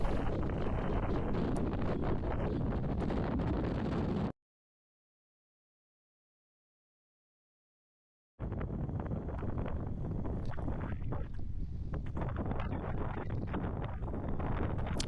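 Strong wind buffets the microphone on a rough, windy beach in Puerto Rico, a constant loud roar that cuts out completely for about four seconds before returning just as hard.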